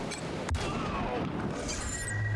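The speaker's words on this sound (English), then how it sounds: "Let's test out your new gun." In Wasteland 3, a newly acquired gun fires a sharp, close shot, followed by dense rumbling gunfire and explosive booms in the background.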